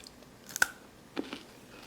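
A couple of short crunchy bites, close up, with quiet pauses between them and no talking.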